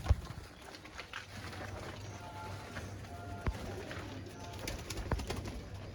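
Golden pigeons coo softly in a loft, low repeated calls mixed with faint wing and shuffling noises and occasional sharp knocks, with quiet background voices.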